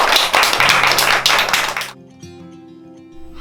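Audience applause at a Korean shamanic training gathering, a burst of dense clapping that stops abruptly after about two seconds, followed by a quieter sustained tone.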